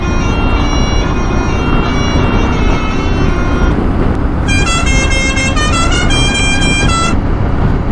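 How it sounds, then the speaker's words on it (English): Loud, tonal air horns fitted to taxi minivans in Guyana blare in sustained blasts and quick repeated toots over heavy street and engine noise. "They all have air horns rigged up to them that sound like this."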